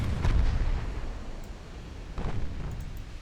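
Deep, rumbling booms of naval guns firing in the warship game Ultimate Admiral Dreadnoughts, two heavy rolling salvos a couple of seconds apart, loud and low.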